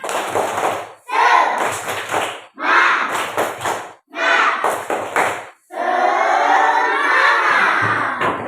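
Classroom pupils perform a rhythmic spirit clap together, loud bursts of group clapping and chanted shouts in short repeated phrases separated by brief pauses, ending in a longer sustained shout.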